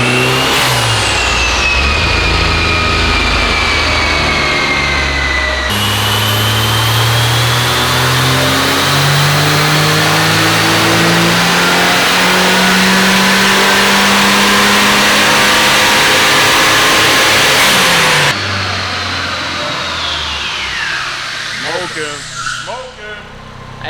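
Rear-wheel-drive Honda Civic engine revving hard on a dyno, pitch climbing through long pulls with a gear-like step partway, loud and close, then dropping off as the run ends, with slightly uneven, lumpy tone.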